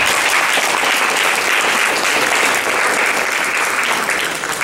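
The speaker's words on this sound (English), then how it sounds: "give her some love and a round of applause too" A crowd at a speech event breaks into loud, sustained applause, a thick wash of many hands clapping continuously without any pause.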